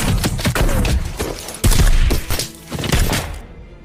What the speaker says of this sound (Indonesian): Dan baku tembak pun dimulai.